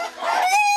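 A Cheonggye chicken caught by hand lets out one short, loud, strained squawk, rising and tonal, close up and alone.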